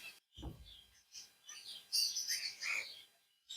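Java finches chirp in a cage in short, thin, bright calls, a few scattered notes close by with brief pauses between them and a soft thump early on.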